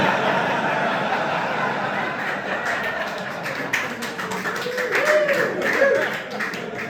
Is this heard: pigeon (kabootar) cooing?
no